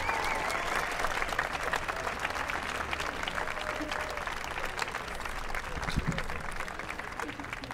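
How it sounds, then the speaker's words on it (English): Sustained applause from a middle school graduation audience for the graduating class, many hands clapping steadily at moderate distance with faint crowd murmur underneath. "One more round of applause for this wonderful class."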